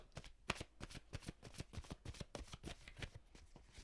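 A deck of oracle cards shuffled by hand at close range: quiet, quick riffling flutters and soft slaps in a rapid, uneven rhythm, with no talking.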